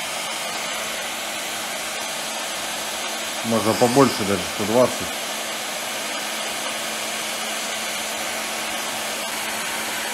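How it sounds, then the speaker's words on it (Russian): A technical heat gun warms a relay housing on a test bench, its steady airflow whir running throughout beneath a man's speech, with a few brief louder sounds partway through. "сразу произведу нагрев корпуса реле с помощью технического фена"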